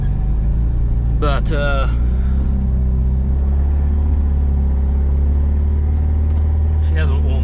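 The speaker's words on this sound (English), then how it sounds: "I'm just gonna drive up and down the driveway a couple of times and annoy my neighbors" A car engine idles with a deep, steady rumble while warming up in a driveway, loud and close throughout, with someone speaking briefly over it near the start and end.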